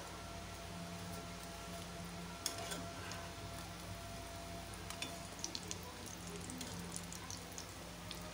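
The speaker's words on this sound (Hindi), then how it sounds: "एक मिनट के लिए इसको भी हम फ्राई करेंगे इस वाली साइड को" Food frying in a home kitchen pan as a quick lunch or breakfast dish is browned on its second side, with a steady, even sizzle and crackle and a few sharper pops and ticks throughout.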